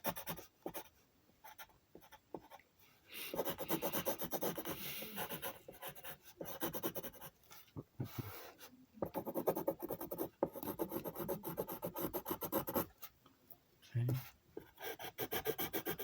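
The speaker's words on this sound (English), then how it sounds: "I'm gonna add as much detail to our drawing as possible." Pencil drawing on paper for a silhouette art piece, with bursts of scratchy rubbing strokes separated by brief pauses, close and quiet, repeating unevenly throughout.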